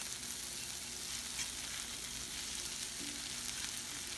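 Mushrooms and green peppers sizzling together in a pan with a steady, quiet crackle and hiss, heard up close with no talking.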